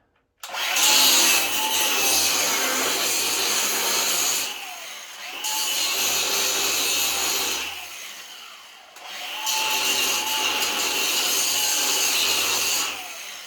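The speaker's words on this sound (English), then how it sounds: "So I'm just going to give this a little grind." A grinder works a steel spot weld on a home-built diesel submarine in three long, loud passes. Each runs about four seconds, with short pauses between them and no talking.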